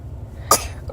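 A newborn baby's tiny sneeze bursts out once near the middle, short and close, followed by a faint vocal sound at the end over a low background hum.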